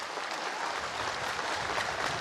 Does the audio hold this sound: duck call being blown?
no